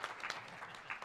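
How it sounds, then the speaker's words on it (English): Audience clapping for about a second, a steady patter of many hands at moderate loudness, with no voices over it. "give him a round of applause"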